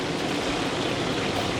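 Thin liquid red spice paste pours into a cooking pot for a spiced goat curry, a steady broadband wash of liquid sound running continuously without pauses.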